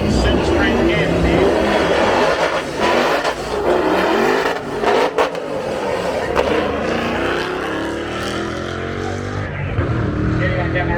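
A Holden Commodore VZ race car with an LS1 V8 roars loudly nearby on a racetrack, revving and accelerating, its pitch climbing and shifting as it pulls away, with a voice speaking over it.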